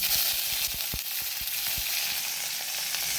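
Red chilli and curry leaves frying in spluttering oil with mustard seeds, a steady loud sizzle broken by sharp popping crackles throughout.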